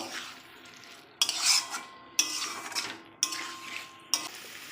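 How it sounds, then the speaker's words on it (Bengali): Fried pumpkin pieces stirred in oil in a metal pan for a mustard-poppy seed pumpkin curry, with a spatula scraping in four sharp bursts about a second apart over a soft, steady sizzle. "নাড়াচাড়া করে নেব"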